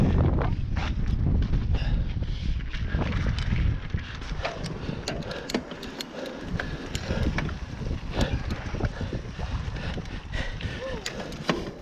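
Wind buffeting an outdoor microphone, a steady rushing roar with frequent sharp gusty knocks and thumps throughout, loud and close.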